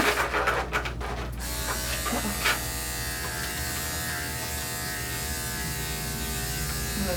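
Electric clippers fitted with a 2-guard buzz steadily while shaving a dog at a grooming shop, close and constant, after a few brief handling rustles and clicks at the start.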